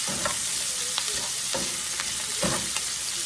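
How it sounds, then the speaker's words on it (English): Chopped onion frying in hot bacon fat in a pan, a steady close sizzle with occasional scrape-and-stir strokes every half second or so, no voices. "So now we're going to get this onion cooking a little bit."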